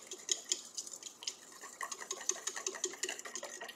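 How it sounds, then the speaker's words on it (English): Whisk beating granola ingredients together in a bowl, a quick, even run of light metallic taps and scrapes heard close up without speech. "I'm going to take a whisk and I'm going to whisk all of that stuff together."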